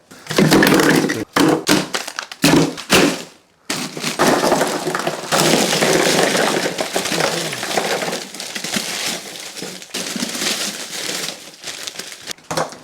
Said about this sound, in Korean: 그래서 이번엔 아이스팩을 한번 섞어 볼게요.